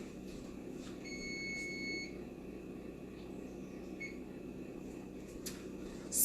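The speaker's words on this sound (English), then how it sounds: "Let me turn this beeping off." An electronic alarm beeps in a steady tone for about a second, with a fainter beep later, over a low room hum and no talking.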